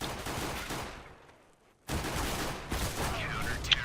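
Rapid automatic pistol gunfire in the video game CS:GO crackles in dense bursts, breaking off into a brief lull before more shots resume, with a player's voice under the action.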